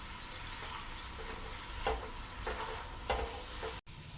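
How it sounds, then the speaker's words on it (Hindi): Onions frying in a pan until brown for dhaba-style keema dal mash, a steady low sizzle with a few soft stir scrapes, close and continuous, no talking. "इसको हम फ्राई कर लेते हैं, प्याज को ब्राउन कर लेंगे"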